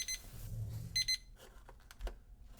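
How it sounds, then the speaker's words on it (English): A timer alarm goes off during setup of a DurAcetal hot shot injection gun, giving short bursts of bright electronic beeping separated by gaps, with faint handling noises in between. "When timer sounds, it's time to inject."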